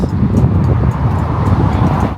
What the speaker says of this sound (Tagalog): Oh, sarap ng hangin dito